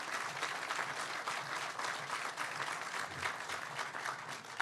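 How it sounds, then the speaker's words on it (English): An audience at a family plaza dedication gives sustained applause, a steady dense patter of many hands clapping throughout without speech. "So if we could clap for David."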